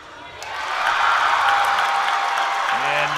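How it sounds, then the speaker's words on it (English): A crowd at an Ohio State college gymnastics meet swells into a sustained roar and applause after a stuck landing off the bars, a broad wash of cheering that holds steady throughout. "the roar of the crowd on another stuck landing off the Ohio State bars routine"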